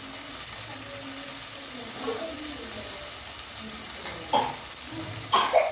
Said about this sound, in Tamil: இது வதங்கும் போதே நான் கொஞ்சம் கல்லுப்பு போட்டுக்கிறேன்